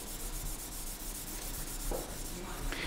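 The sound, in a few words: violin bow being rubbed on a cake of rosin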